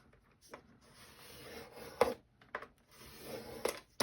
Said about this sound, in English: Now I'm going to score at that 1/4 inch and that 1/4 inch.